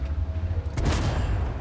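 A single heavy tank cannon blast in the video game World of Tanks booms out suddenly, followed by a rumbling low tail over a steady engine drone.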